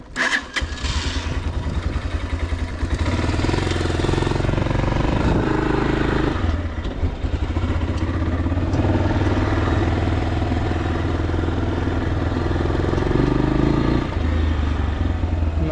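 A Geon X-Road Light 200 motorcycle engine fires up and settles into a loud, close, steady idle, with small throttle blips along the way and no talk.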